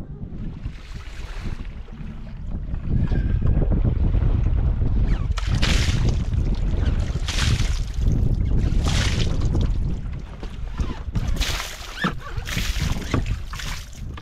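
A sailboat ghosting downwind in very light airs on the way into Amsterdam, with steady wind rush across the microphone, soft water swishing and occasional splashes along the hull.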